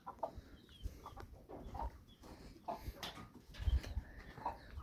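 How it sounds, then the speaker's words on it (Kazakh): Chickens and a big rooster on a village farm cluck in short, scattered bursts while resting in the shade on a hot afternoon, quiet and fairly close with a soft outdoor background. "Тауықтардың бәрі осы жатыр. Қоразымыз осы,"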